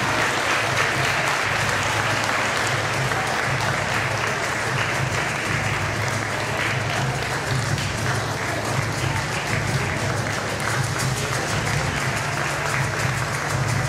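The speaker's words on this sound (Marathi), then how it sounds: "जोरदार टाळ्या वाजवा." Loud, steady applause from a hall audience at a Marathi parents' conference prize distribution, greeting a speech competition winner; dense and continuous for the whole stretch, without talk on top.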